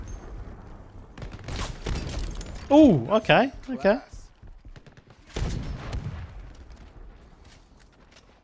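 Sniper rifle shots from Shatterline, a shooter game, crack out as a few sharp, loud reports spaced seconds apart, with a player talking excitedly between and over them.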